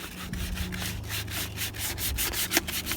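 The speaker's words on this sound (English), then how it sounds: "You can sand it if you want to, that's up to you." Sandpaper scuffing a plastic chicken waterer lid in quick back-and-forth strokes, a rhythmic close rasping over a low background hum.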